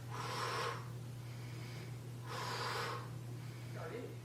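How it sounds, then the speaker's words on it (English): Two strong, forceful exhaled breaths, each about a second long and a couple of seconds apart, come during an arm-toning exercise demonstration at home, followed by a softer third breath, over a low steady hum. "you're going to breathe out as follows"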